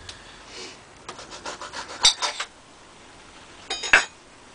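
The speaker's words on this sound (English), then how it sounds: "So let's just chop it open." A knife cuts open a Yellow Moruga Scorpion chili pepper pod on a board, giving a few close, short scraping cuts and sharp clicks of the blade in quiet surroundings.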